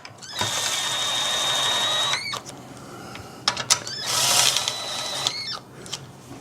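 A light-duty 1/4-inch power driver runs bolts into a Sportsman GEN4000 generator, whirring up in close, loud bursts of a few seconds each with brief ratcheting clicks and handling knocks between runs.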